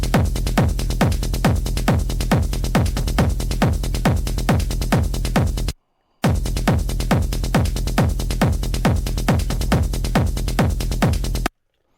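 An electronic dance drop in which a punchy kick pumps against a heavy bass, shaped with Pro Q3 equalizing and Kickstart sidechain ducking. Loud, driving four-on-the-floor hits repeat for several seconds, break off for a moment, then return.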